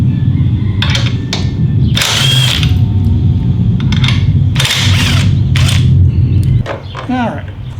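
Power tool bursts backing out the half-inch blinker bolts on a 2022 Harley-Davidson Street Glide Special, several loud whirring runs with short pauses over steady low background rumble, with a voice heard near the end.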